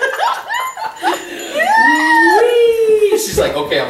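A dog howls in a long rising and falling wail, close and loud, mixed with yips and whimpers while people talk and laugh nearby.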